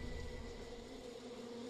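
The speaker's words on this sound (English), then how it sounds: "I hear bees." Bees buzz in the video game Far Cry New Dawn, a faint, steady drone that holds evenly throughout with no voice over it.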